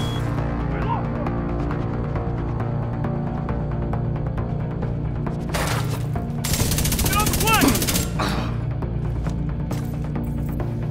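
Gunfire in The Division 2 crackles over a steady in-game hum, with a denser burst of rapid shots around the middle and short scattered bursts later, close and fairly loud.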